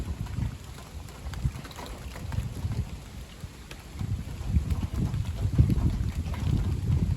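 Gusty west-northwest wind up to 50 km/h rumbles and buffets steadily, with low roaring surges rising and falling; no voices.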